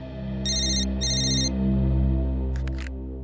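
A phone ringtone sounds in two short, bright electronic bursts over a sustained musical drone, followed by a brief burst of clattering noise, fairly loud and close.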